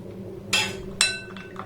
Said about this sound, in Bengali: এবার 3টের মধ্যে 3টে চামচ আমি দিয়ে দেব।